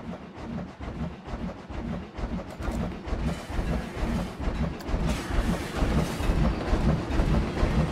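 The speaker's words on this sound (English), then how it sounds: "I knew there's a train coming." A train on a ride in the video game Planet Coaster rolls by with loud, continuous rumbling and rhythmic clickety-clack from its wheels, close and steady throughout with no talking.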